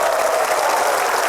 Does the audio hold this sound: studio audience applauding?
yes